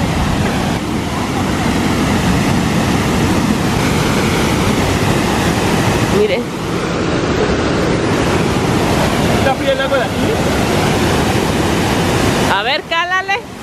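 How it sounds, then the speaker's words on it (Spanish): A small waterfall where a river flows out at Valle de Bravo sends up a loud, steady rush of falling water with wind buffeting, and a voice speaks briefly near the end. "trajeron aquí a la cascadita y se ve súper, súper chulo"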